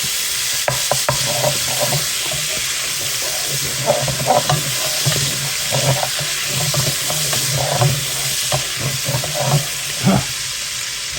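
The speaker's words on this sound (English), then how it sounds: "Let me use a spoon here. Just try to break all the pieces up." Chunks of salty pork bacon frying in a pot for Puerto Rican rice and beans, a continuous sizzle with repeated scraping and stirring clicks as a spoon breaks the pieces apart.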